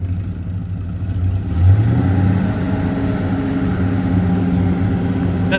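1966 Chevrolet Chevelle SS 396 with a 4-speed, its V8 idling then rising in one strong rev around the middle and holding a steady roar, close by with no talk.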